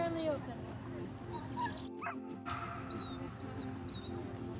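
Dog barking and whimpering outdoors at a campground in Mounds State Park, Anderson, Indiana; the yips and whines come in short bursts over steady background noise while people talk nearby.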